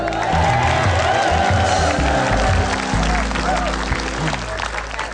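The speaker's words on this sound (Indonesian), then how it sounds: "Tepuk tangan buat Marcel." Studio audience applauding and cheering on an Indonesian TV comedy show, a sustained dense wash of clapping with a host's voice talking over it throughout.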